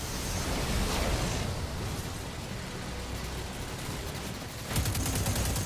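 Hand cannon gunfire from the Sunshot in Destiny 2, a dense, continuous burst of loud shots and impacts with a short lull before a renewed surge near the end.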